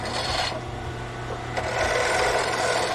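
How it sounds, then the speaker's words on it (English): A large roughing gouge cuts a spinning wooden pen blank on a lathe, producing a close, continuous scraping rasp that fades briefly and then returns louder. "then you can go ahead and use your very large, comparatively roughing gouge"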